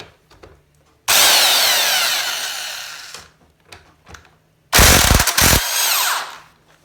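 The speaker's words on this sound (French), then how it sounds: "Je commence donc à la clé à choc." An impact wrench works loose a motorcycle swingarm linkage bolt in two loud, close bursts, the first about two seconds long and the second shorter with a hard rattling hammer, separated by quieter handling noise.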